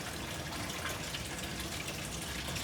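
Water gushes steadily from the pump of a ZY-PD08 automatic two-station 3D baking and molding machine, a continuous broadband splashing flow that holds at an even level with no pauses.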